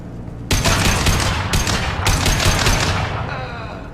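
Gunfire on Omega in Mass Effect 2 bursts out in three dense, loud volleys of rapid shots, each a second or so long and close together, trailing into a faint rumble.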